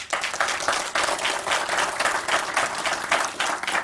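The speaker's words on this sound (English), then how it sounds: "Hold the applause." A library audience applauds as a guest author is introduced, many hands clapping in a dense, even patter that swells and dips slightly but carries on steadily with no speech.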